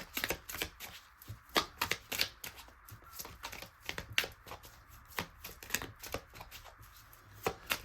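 A deck of Lenormand cards is shuffled by hand for a tarot-style reading. Close, quiet riffling and slapping bursts come in an uneven rhythm, and no one speaks.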